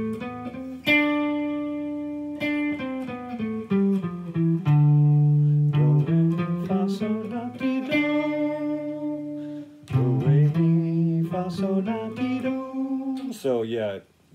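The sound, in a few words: guitar playing a scale mode starting on D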